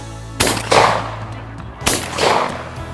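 Two loud shotgun blasts at clay targets in a duck-hunting drill, about 1.5 seconds apart, each a sharp, close report with a trailing outdoor echo.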